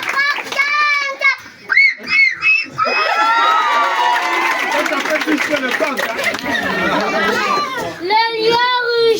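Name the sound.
children imitating a rooster crowing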